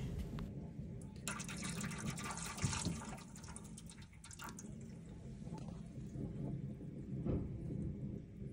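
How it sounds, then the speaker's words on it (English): Water poured into a Potterton Promax 12HE boiler condensate trap to flush it out, a continuous splashing gush that runs steadily for several seconds, close and moderately loud. "Once you're happy that it's clean, just pour some water in."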